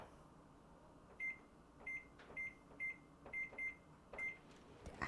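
A microwave oven hums faintly while cooking a turkey pot pie on high, with a series of short, evenly spaced beeps and clicks over the low drone.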